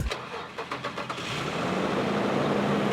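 A car engine blips a few times, then revs up hard and holds near its limit with a loud, sustained roar close by.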